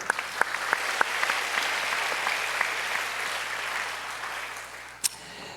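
Middle school and youth groups at a church service clap together, a few crisp individual claps at first, then a broad, even round of applause that fades, with one sharp knock near the end.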